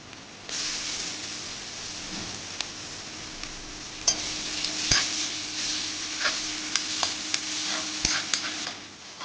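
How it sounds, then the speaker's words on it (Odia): Ginger garlic paste fries with onions in a pan for a village-style chicken curry, giving a steady, moderate sizzle. A spoon stirs through it and clinks against the pot in intermittent sharp ticks. "ଅଦା ରସୁଣ ହେଇଯିବା ପର୍ଯ୍ୟନ୍ତ ତାକୁ ଭଲସେ କଷି ନେବା।"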